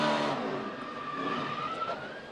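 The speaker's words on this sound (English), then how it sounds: "You can hear the old engine." NASCAR stock car engine with a cylinder down, droning loudly through a short pass with a slightly uneven, rough tone and no talk.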